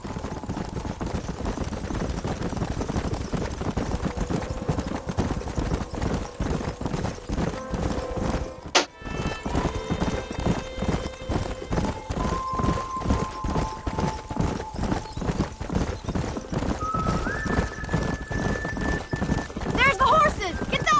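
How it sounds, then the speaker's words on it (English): Rapid, continuous hoofbeats of galloping horses in the video game Red Dead Redemption fill the scene, with people talking over them and brief tonal sounds rising in the background. "There's the horses!"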